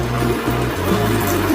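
NPK fertilizer dissolved in water is poured onto a caladium plant, a loud, continuous splashing gush of liquid close by with a low gurgling undertone.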